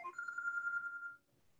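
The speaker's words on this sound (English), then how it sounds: "Sorry about the phone." An electronic telephone ringtone chirps loudly indoors for about a second with a steady tonal warble, then stops abruptly and leaves quiet room tone.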